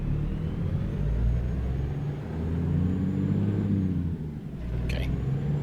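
A Cummins KT engine in a heavy-hauling truck in American Truck Simulator accelerates slowly, a steady loud rumbling drone with rising tonal harmonics and a brief high tick near the end.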